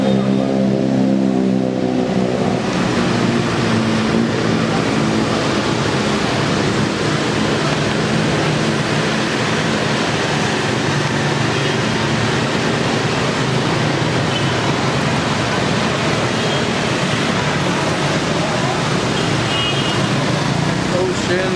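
Dense street traffic in Hanoi, with many motorcycles streaming past in a continuous loud wash of engine noise and hum, no pauses, heard up close from the roadside.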